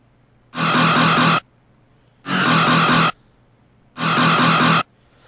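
Three evenly spaced bursts of harsh, buzzy distorted riddim dubstep synth bass made in FL Studio, each about a second long, separated by short silences.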